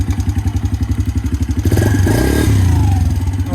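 A Suzuki Quadsport Z90 four-stroke ATV, freshly tuned with a cleaned carburetor, putters at a loud rhythmic idle close by, then revs up into a sustained, rising drone as it pulls away.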